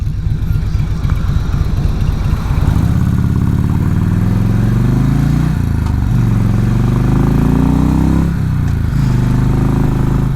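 A Harley-Davidson motorcycle engine rumbles at idle nearby, then revs up in two long rising pulls with a brief dip between them, steady and fairly loud, with no voices over it.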